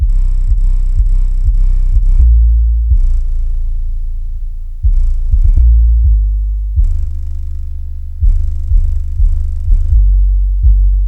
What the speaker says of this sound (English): I would start to hear this almost rattling noise